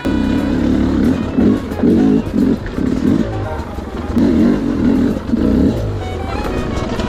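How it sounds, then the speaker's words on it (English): A 2025 Sherco SE300 Factory two-stroke dirt bike engine revs in repeated loud, close bursts, rising and dropping in a rough rhythm over a steady idle, with wind and clatter around it. "I just rev the engine and it stands the bike up."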